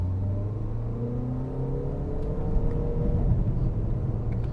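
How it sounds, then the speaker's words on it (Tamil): A car engine pulls hard under acceleration on a test drive, a steady droning rumble with rising engine tones as it gathers speed, heard from inside the cabin. "இப்போ அப்படியே நம்ம இந்த வண்டியை ட்ரைவ் பண்ணி பார்க்கலாம் வண்டியோட பெர்ஃபார்மன்ஸ் எப்படி இருக்குது அப்படிங்கிறத நான் அப்படியே புஷ் பண்ணுறேன் பாருங்கள்"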